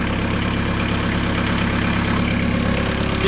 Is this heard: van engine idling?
yes